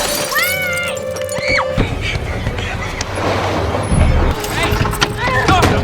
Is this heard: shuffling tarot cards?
no